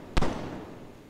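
One sharp gunshot rings out in the VR game Modbox. The crack is close and loud and trails into a short fading tail.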